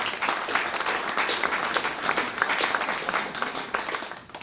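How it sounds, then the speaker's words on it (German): Applause fills a hall at a climate conference greeting, many hands clapping in a dense, lively patter that carries on throughout and tapers slightly at the end, with no talking. "Ich denke, das ist einen Applaus wert."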